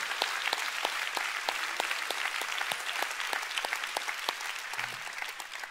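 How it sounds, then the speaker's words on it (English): A church congregation claps in praise to the Lord during a sermon on the Spirit-baptised life, a steady patter of many hands with sharper individual claps standing out, moderately loud and without talk over it. "let's give the Lord a big clap one more time"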